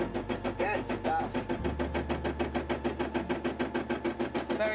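A sewing machine runs steadily in a craft room, stitching over thread with a quick, even mechanical rhythm heard up close and alone.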